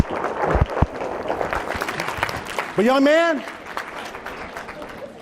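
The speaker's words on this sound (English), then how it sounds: "Let's give this man a round of applause." Applause from an audience at a student speech event honoring a man for his service, rising around a voice speaking over it.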